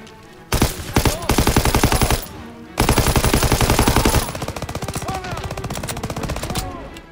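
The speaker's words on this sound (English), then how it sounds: "Incendiary shotguns?" Gunfire in the video game Call of Duty WWII, including incendiary shotguns: loud, close, rapid bursts of shots broken by a short pause, then quieter sustained firing trailing off.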